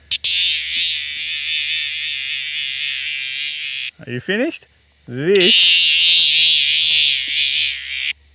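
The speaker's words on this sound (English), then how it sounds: "he is one of the loudest cicadas we have in Australia" A loud, close razor grinder cicada, an adult male in Australia, gives off a steady piercing buzz that cuts out for about a second while a person speaks briefly, then resumes at full strength.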